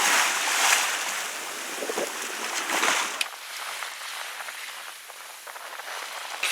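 Steady wind rush and waves washing past a sailboat sailing the open ocean off the Whitsunday islands toward Hook Island, loud and continuous with gusty microphone buffeting and no talk.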